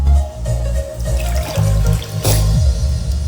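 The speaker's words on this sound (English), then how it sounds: "This is water. It goes from glass to glass." Water poured from one glass into another in a trickling, dripping stream, close and fairly loud with low rumbling beneath, running steadily through the moment.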